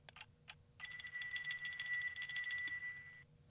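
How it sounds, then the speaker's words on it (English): An alarm clock rings in a quiet room, a couple of short clicks and then a steady high metallic ringing lasting a few seconds before it stops, fairly faint and alone. "Is that an alarm clock?"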